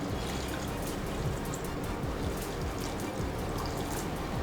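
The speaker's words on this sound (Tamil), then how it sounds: "லைட்டாக தண்ணி ஊற்றிக்கிங்க." Water poured lightly over mutton in a pressure cooker while making Dindigul mutton biryani, a steady, close pouring and trickling wash with no talk.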